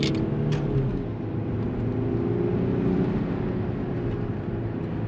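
A VW Phaeton Stage 1 luxury sedan accelerating in S mode, heard from inside as a steady, dense low engine and road roar that holds level throughout, with no talking.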